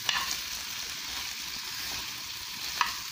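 Onion frying in a pan while being stirred, with a steady broadband sizzle throughout and a couple of brief utensil scrapes near the start and end.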